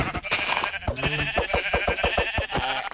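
Sheep in a Minecraft-style video game bleat in a rapid, wavering run of calls, loud and close, filling the short moment without other sound.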